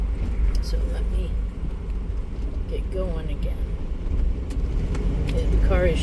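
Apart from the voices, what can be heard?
car driving on the road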